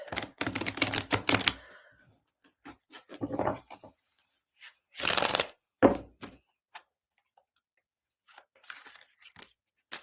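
Playing cards are shuffled: a quick riffle of rapid flutters, then scattered taps and another brisk riffle, close by with no talking.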